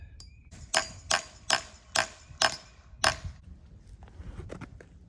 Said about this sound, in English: you'll hear a change in the sound of the tapping as you get the spile to the right depth